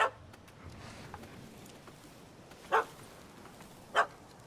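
A puppy barks at a cat up a tree in The Witcher 3: Wild Hunt, next-gen version: a few short, sharp barks spaced well apart over a steady low background, with no talking.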